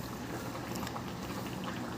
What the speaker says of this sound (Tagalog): Maglagay na ako ng tubig sa aking kaldero.